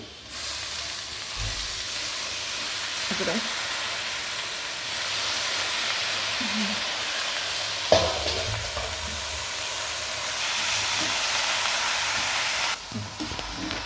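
Turmeric and patri greens fry in a pan, making a continuous loud sizzle and hiss that swells as the vegetables go in, with a few scraping stirs and clanks, close by and with no voices.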